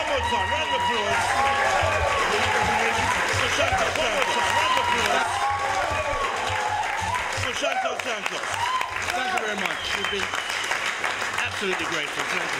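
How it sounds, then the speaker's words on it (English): Audience applause after a jazz vocal performance, sustained clapping from a crowd with people talking and cheering over it, steady throughout. "One more time, round of applause."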